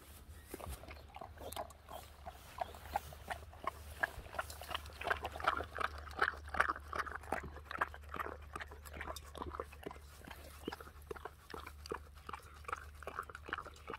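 A ten-year-old Dogo Argentino eating eggs mixed with their shells: steady, close wet chewing and smacking with quick crunchy clicks repeating throughout, alone over a low background hum.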